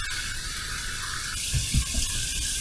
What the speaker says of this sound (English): marvelous, marvelous cold water rinse